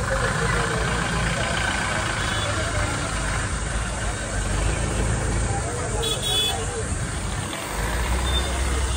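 A car engine runs at a low, steady idle rumble throughout, with road and traffic noise around it and people talking faintly over it.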